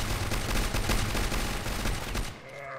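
A G11 rifle in a video game fires in rapid bursts, a dense close string of sharp gunshots that stops abruptly near the end, leaving a quieter tail.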